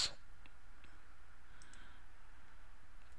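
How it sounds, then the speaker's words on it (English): A computer mouse gives a single crisp click right at the start, followed by a quiet room with only a faint tick or two. "So I click down."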